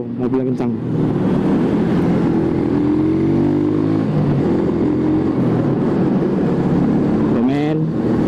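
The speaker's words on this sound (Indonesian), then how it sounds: "Tuh mobil yang kencang." A fast car passes on the road, a loud engine rush that swells and fades, heard beneath ongoing nearby talk.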